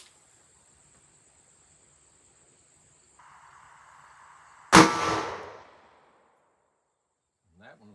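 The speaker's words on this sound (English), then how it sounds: "next up is the Hornady 158 grain flat point XTP bullet out of the Ruger GP100 5-inch barrel" A single loud, sharp shot from a Ruger GP100 revolver with a 5-inch barrel firing a Hornady 158-grain flat point XTP bullet, preceded by a faint steady electronic whine and trailing off in a short echoing decay.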